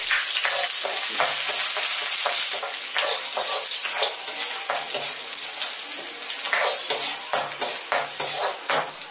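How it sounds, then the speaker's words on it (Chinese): Aromatics sizzle in hot oil as they are stir-fried for soy sauce chicken drumsticks, a steady crackling hiss with repeated scraping strokes of the spatula against the wok, close and fairly loud, no talking. "然后爆香料头"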